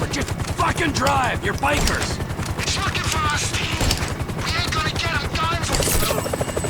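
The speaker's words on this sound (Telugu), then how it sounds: "చాపర్ కూడా వచ్చేస్తుందా?" A helicopter's rotor thrum mixed with bursts of rapid gunfire in a busy GTA 5 battle, with excited voices talking over the din.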